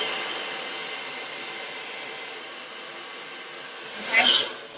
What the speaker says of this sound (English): I'm just going to start blow drying just to show you how I blow dried it